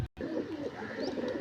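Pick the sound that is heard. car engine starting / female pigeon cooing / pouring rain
female pigeon cooing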